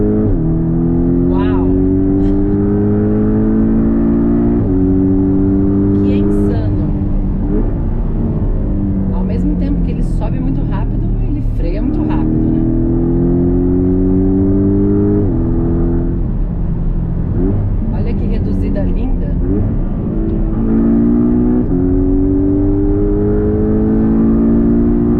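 A Porsche 718 Cayman T, a mid-engine car with a seven-speed gearbox, accelerates hard at full throttle, loud and close. Its engine note climbs repeatedly through the revs, with a sudden drop at each upshift, and there is no talk.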